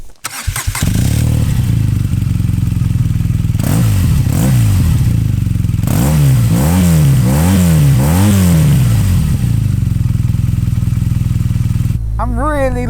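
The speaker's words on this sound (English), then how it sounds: "I'm really loving the sound of this Akropovich exhaust. It's nice and bassy." BMW R nineT boxer twin motorcycle fitted with an Akrapovic exhaust, ridden on the road: a loud, deep engine note that revs up and down through several rising and falling pulls, holding steady near the end.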